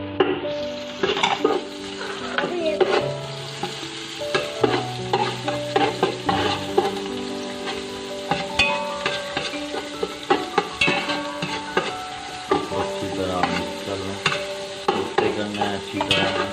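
Capsicum and mixed vegetables for fried rice fry over a steady flame as a spatula stirs and clatters repeatedly against the pan, under a constant loud sizzle, close by and with no speech.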